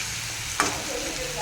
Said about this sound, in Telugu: టమాటా అంతా బాగా వేగాలి